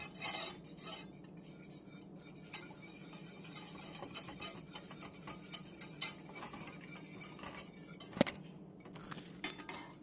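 A metal whisk clicks quietly against a bowl while making chocolate shortcake, a faint string of light, rhythmic ticks and clinks over a low room hum, with no speech.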